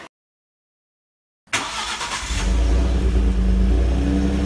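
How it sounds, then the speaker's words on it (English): A pickup truck engine used for an exhaust test: silence, then the engine catches and settles into a loud, steady running rumble close by, with no talking. "Now let's try the exhaust from my truck."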